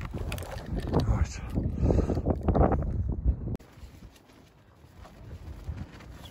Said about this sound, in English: It's very windy tonight.